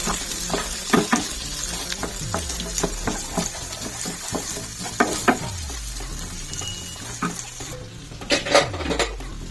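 Garlic, ginger and onion masala fries on slow heat for a Goan crab dish, giving a soft, even sizzle broken by clinks and scrapes of a spoon against the pan.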